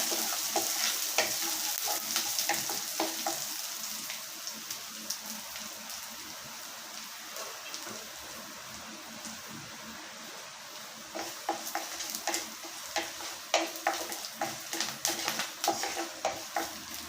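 Garlic cloves and curry leaves sizzle steadily in hot oil in a pan, with scraping stirs joining in and growing busier toward the end; no voices over the crackle.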